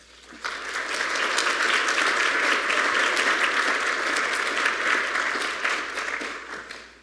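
An audience claps to welcome a lecturer, Professor Frey, to a talk on tradition and liberal education. The dense, steady applause swells quickly, holds for several seconds and fades at the end, with no voices over it.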